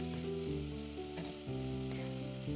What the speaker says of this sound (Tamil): 2-3 பச்சை மிளகாய், சிறிதளவு கருவேப்பிலை ஆட் பண்ணி நல்லா வதக்கி விடணும்.